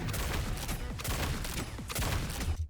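Rapid bursts of Punisher gunfire in the hero shooter Marvel Rivals, loud and close, with dense repeated shots in several volleys that cut off abruptly at the end.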